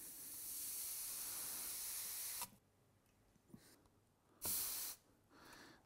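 A hot steam iron on its hottest setting pressed onto a very wet cloth laid over teak furniture, giving a loud sustained hiss of steam for about two seconds, then a second short burst after a pause.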